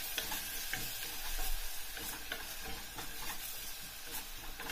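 Butter sizzling in a pot of soup made with chicken broth while a spoon stirs, steady close frying hiss with repeated scraping stir strokes, moderately quiet and alone without talk.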